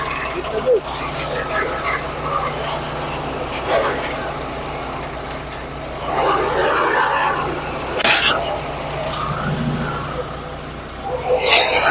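A large farm waste grinder runs on a farm, shredding mixed scraps such as coconut husks and wood. Its heavy engine drones steadily with surging grinding bursts, and people talk over it throughout.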